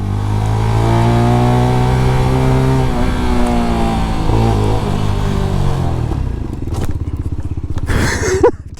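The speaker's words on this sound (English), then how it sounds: "Let's try braking hard." A MITT GP 125 motorcycle's engine drops steadily in pitch as the rider brakes hard from speed, loud and close, the note winding down to a low rumble before a brief shout at the end.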